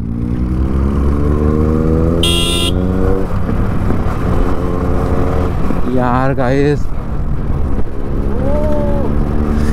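Motorcycle engine running nearby, steady and loud throughout, with revving and a pitch rise midway, a short horn toot early on, and someone talking over the engine.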